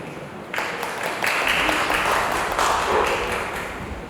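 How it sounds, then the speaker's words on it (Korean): Applause at a women's policy forum session, a broad crackling wash of clapping that swells after half a second and holds steady at moderate loudness to the end, with no talk over it. "큰 박수 부탁드립니다."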